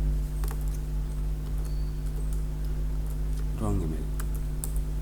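Clicky keystrokes on a computer keyboard while Python code is typed, a rapid irregular patter heard close under a steady hum, with someone speaking briefly partway through.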